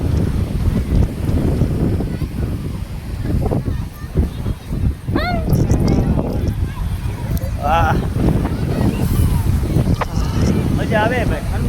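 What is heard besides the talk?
strong cold wind at the seashore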